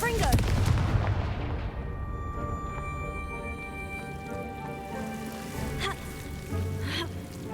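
A Confringo fire spell in the Hogwarts Legacy video game bursts with a sharp, loud blast at the start, then trails off into crackling, rumbling debris and echoing tones, with a smaller impact near the end.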